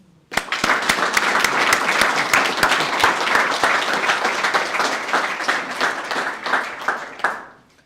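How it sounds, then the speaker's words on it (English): A police graduation ceremony audience gives a full round of applause that starts abruptly, holds dense and steady for several seconds, then fades out, with no speech. "I think you guys deserve a round of applause"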